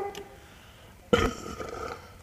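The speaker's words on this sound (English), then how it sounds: "I really need a burp" A single loud burp after drinking Bavaria beer, a short abrupt belch bursting out from near silence and trailing off with some low breathy noise.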